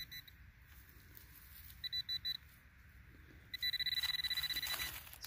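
A handheld metal detecting pinpointer gives rapid electronic beeps over a buried target near a local fishing hole: one short burst of four beeps, then a longer fast steady run of beeps, close and fairly loud over outdoor background noise.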